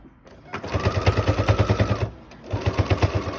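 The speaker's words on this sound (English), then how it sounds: "you're going to sew right down this line here and then right down here" A sewing machine stitches a face mask keychain holder in two close, rapid bursts of rhythmic mechanical thumping, separated by a short pause.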